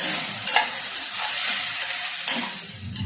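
Continuous sizzle of mung bean curry with coriander frying in a pan, with a utensil scraping and stirring through it now and then, close and fairly loud.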